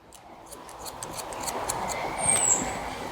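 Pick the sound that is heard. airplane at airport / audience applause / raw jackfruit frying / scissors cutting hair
scissors cutting hair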